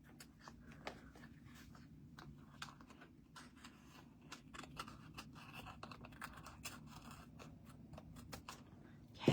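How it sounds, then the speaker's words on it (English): Scissors cutting craft paper from a Stampin' Up! Greenery Lane bundle, quiet crisp snips and rustling scratches repeating close by, faint and steady. "And then we're going to cut it."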